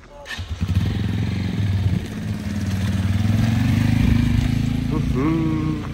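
A Chinese-made motorcycle engine starts with a few sputters, then settles into a loud, steady, close idle with a slight rise in revs near the end; voices talk over it.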